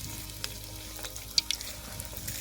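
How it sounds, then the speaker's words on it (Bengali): Semolina-coated pakoras sizzle in hot oil, a steady soft frying hiss with a few small pops and crackles scattered across the short stretch. "তেল গরম হয়ে গেছে এবারে দিয়ে দেবো পকোড়াগুলো"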